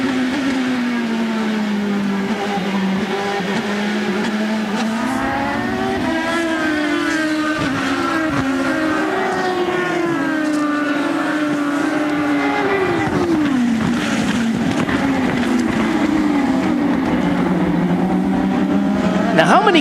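IndyCar race cars at Barber Motorsports Park accelerate on a green-flag restart out of the final corner, a loud sustained engine roar with rising and shifting pitch sweeps as several cars pass, under continuous commentary.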